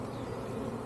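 Honeybees buzzing in a shaken-down cluster at a backyard beehive, a steady, dense drone that holds at moderate loudness throughout without a break.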